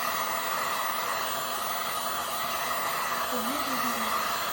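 A hair dryer blows with a steady, close whooshing roar, unchanging throughout, with a faint squeak near the end.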